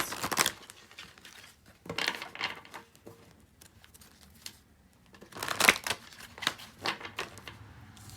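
A Wisdom of the Oracle card deck being shuffled by hand, with bursts of riffling and flicking cards separated by quieter handling, close and moderately soft, no talking.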